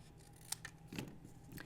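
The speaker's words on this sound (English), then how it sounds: "just to cut away one of those outside triangles" Scissors snip through a paper template, cutting away an outside triangle from a geometric ball table favor, with a few short, quiet cuts spread over under two seconds.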